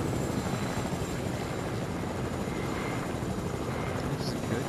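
Fortnite video game helicopter: a steady, loud whirring rotor drone with a dense broadband hum that holds unchanged throughout, close and continuous.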